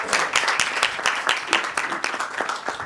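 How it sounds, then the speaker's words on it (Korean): A hall audience at a leadership school admissions information session claps after a welcome speech, producing sustained, dense applause with individual sharp claps standing out. "다시 한번 큰 박수 부탁드립니다."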